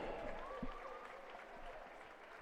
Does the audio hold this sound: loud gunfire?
no